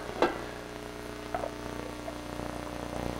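Lobster bisque frying fast in a small pan, a steady soft sizzle with a sharp clatter of stirring near the start and a lighter knock midway.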